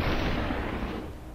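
A single loud, close gunshot blast in SuperHOT fills the whole clip, a dense boom with a slowly fading tail and no talking over it.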